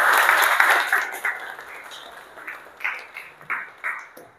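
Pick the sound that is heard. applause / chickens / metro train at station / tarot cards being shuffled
applause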